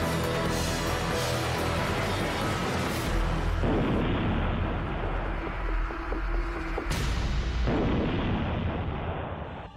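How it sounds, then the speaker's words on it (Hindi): A loud, sustained rumble of explosions with heavy low-end booms and crackling bursts, filling the whole stretch without any talking. "लेकिन तभी अगले ही पल जोरदार धमाका होता है और अफरा तफरी मच जाती है।"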